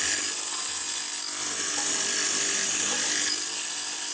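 A hollow chisel morticer cuts a mortise into wood in a workshop, with a small air blower running, giving a steady, loud, hissing grind that continues evenly without pause.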